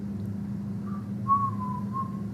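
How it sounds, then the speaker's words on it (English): A person whistles a few short, soft tones during a cranial nerve examination, faint rising and sliding notes over a low steady background hum. "Can you whistle?"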